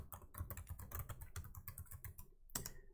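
A command typed on a computer keyboard in a terminal: a quick, quiet run of key clicks in uneven rhythm, ending with a slightly heavier keystroke.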